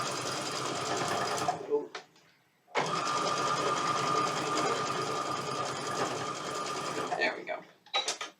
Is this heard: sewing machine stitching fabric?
yes